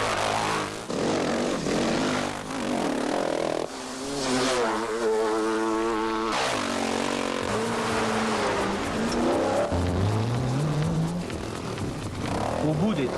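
A Honda 500 CR two-stroke rally motorcycle on a short mountain stage of the 1986 Atlas Rally revs hard, its engine note rising and falling through repeated gear changes, loud and close, ending in a climbing whine.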